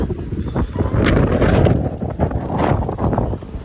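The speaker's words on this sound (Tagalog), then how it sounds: "Grabe, sobrang hangin." Strong wind buffets the microphone in heavy, rumbling gusts that rise and fall, loud and close, with no clear voices.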